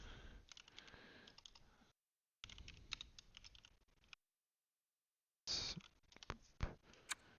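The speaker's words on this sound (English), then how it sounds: "I'm just like typing this in my little spreadsheet as I go here." Rapid clicking keystrokes on a computer keyboard as a spreadsheet is filled in, in three bursts of typing separated by short silences, heard close and fairly quiet.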